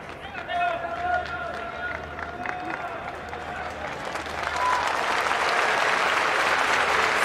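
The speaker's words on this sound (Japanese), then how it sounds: "場内から拍手が沸き起こっています" Stadium crowd applauding at a professional baseball game in Japan against the Hokkaido Nippon-Ham Fighters, a broad wash of clapping that swells and grows louder toward the end, with a broadcaster's commentary over it.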